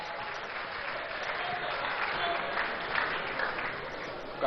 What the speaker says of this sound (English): A round of applause for lawyer Evans Amankwa.